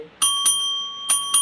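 A bright notification bell chimes four times, in two pairs of quick dings, clear and close with sustained ringing overtones.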